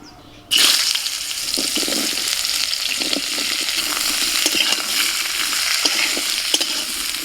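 Drumstick and potato pieces fry in hot oil left over from frying eggplant, a steady broadband sizzle starting abruptly after a brief quiet moment, with occasional stirring clinks and scrapes throughout.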